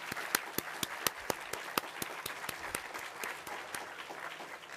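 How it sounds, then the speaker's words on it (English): Applause for a panel at an annual meeting, a moderate crowd clapping with distinct sharp claps standing out, fairly distant and quiet, continuing without pause. "I'd like to ask for a round of applause for the panel."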